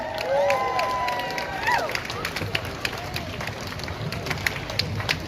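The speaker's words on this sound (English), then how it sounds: "So please give him a round of applause" A crowd at a demonstration claps and cheers in a round of applause, with dense scattered hand claps and a rising whoop near the start, heard across a noisy outdoor gathering with background voices.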